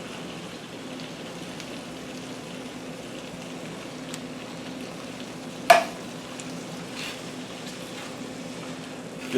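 Black beans and enchilada sauce being stirred in a frying pan, a soft steady sizzle with a single sharp clack of the utensil against the pan midway, quiet and close.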